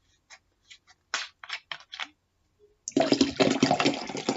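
Water is poured into a glass. A few light clicks and knocks come first, then a steady, close splashing stream of pouring liquid follows.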